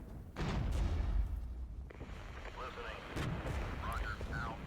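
Artillery fire in a war strategy video game, heavy booming blasts rolling into a dense, sustained rumble of distant shelling, with overlapping impacts continuing throughout.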